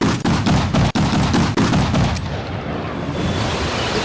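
Loud rapid gunshots from a weapon in a Resident Evil game, a quick string of heavy booming shots for about two seconds followed by a lingering rumbling tail.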